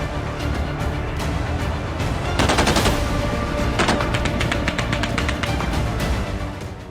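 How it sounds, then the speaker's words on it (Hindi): Bursts of automatic machine-gun fire mixed with single gunshots crackle steadily through a noisy outdoor scene in Afghanistan, with denser volleys midway and no voices. "अफगानिस्तान में फिर गोलियां गूंज रही हैं।"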